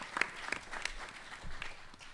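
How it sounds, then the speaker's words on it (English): Audience applause for four panelists at a North American innovation forum, soft and distant clapping with a few sharper hand claps early on, fading into a quiet hall murmur. "So a warm round of applause for our four panelists."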